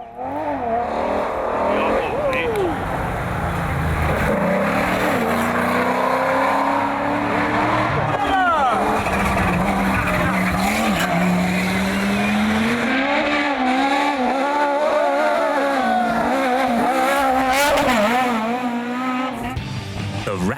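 Classic rally cars drift through corners on a gravel stage at the San Marino Rally Legend. Loud engines rise and fall continuously at close range while a voice talks over them.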